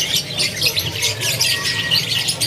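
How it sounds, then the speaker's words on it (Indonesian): Loper-type canaries at a bird kiosk calling in a dense, continuous chorus of shrill chirps and squawks, loud and close, with steady background noise and no speech. "Ini dia untuk penampakannya kenari dari jenis loper."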